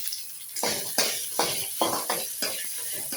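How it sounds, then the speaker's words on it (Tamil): Gooseberries, urad dal, dried and green chillies and ginger sautéing in sesame oil, stirred with steady, rhythmic scraping strokes about twice a second over a soft, continuous sizzle, close and moderately loud. "உளுந்த பருப்பு, காஞ்ச மிளகாய், பச்சை மிளகாய், இஞ்சி போட்டு நல்லா வதக்கணும்"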